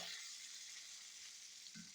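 Orange chicken pieces fry in oil with a faint, steady sizzling hiss, heard alone without talk.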